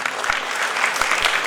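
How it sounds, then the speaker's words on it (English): Steady applause fills a hall at the inauguration of a national tribal dance festival, dense and continuous from a large seated crowd, at even volume throughout. "Once again we extend a cordial welcome with a big round of applause."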